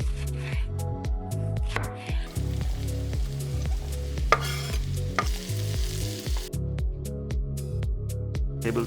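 Whole green cardamom pods frying in hot oil on an uneven pan, giving a steady close sizzle with a string of short crackles and pops throughout, and no talking.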